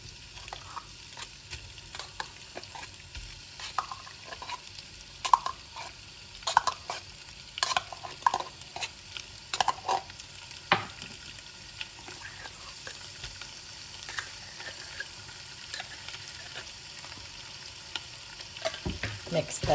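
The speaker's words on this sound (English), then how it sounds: "Okay, these have been frying for about 3-4 minutes" Onions frying in a pan with tomato paste sizzle steadily while a utensil stirs and scrapes, giving frequent small clicks and scrapes close up with no talking.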